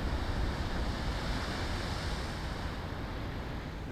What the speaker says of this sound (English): There's a couple of waves smashing right there.